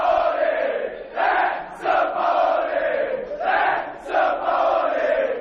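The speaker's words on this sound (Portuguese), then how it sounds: "A torcida do Santos fez festa para a chegada do novo treinador" Santos fans cheer and chant in a crowd of about 100 greeting the arriving new coach, rhythmic swelling roars in repeated waves, fairly close.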